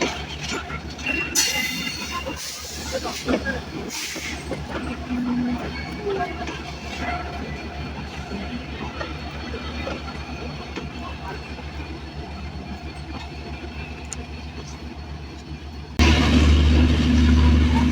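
The Rajbari Mail train rumbles and clatters slowly along the rails into the loop line at Paturia Junction station, a steady mechanical drone with faint talk and station noise around it, growing louder near the end.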